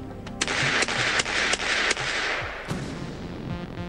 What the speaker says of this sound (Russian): раздались выстрелы